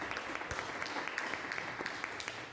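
Congregation clapping in a church gathering to greet a married couple, a soft, steady patter of applause at a moderate distance.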